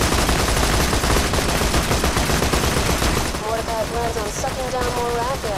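Rapid gunfire from the video game Borderlands 2, a dense continuous volley of shots that fills the clip, with a voice speaking over the last part.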